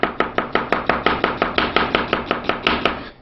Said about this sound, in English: Just a little tip for dicing onions.